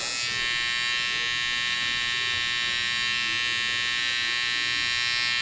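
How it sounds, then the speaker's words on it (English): Electric hair trimmer buzzing steadily and close as its corner cuts a sharp hairline in a barbershop, a continuous high-pitched drone with faint cutting texture and no talking. "I tend to use the corner of the trimmer just because it gives the sharpest, most detailed lines."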